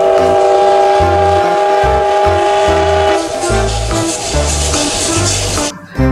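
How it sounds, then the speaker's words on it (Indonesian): A Thomas toy train runs with a steady electronic whistle-like tone and rhythmic low chugging pulses, loud and close throughout, ending with a brief break. "Yang ini ada kereta Thomas."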